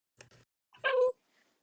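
A puppy lets out a single short, high-pitched whine or yelp, close and fairly loud, just after a couple of quiet spoken syllables.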